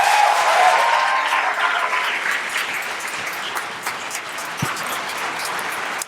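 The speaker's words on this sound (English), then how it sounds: "if we could give one more round of applause for our competitors and our judges" Audience applause for the competitors and judges at a law school moot court competition: a loud, full burst of clapping that slowly tapers over several seconds, a few sharper claps standing out near the end.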